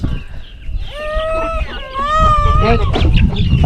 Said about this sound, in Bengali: এই যে দেশি মুরগি কি সুন্দর লাগছে দেখেন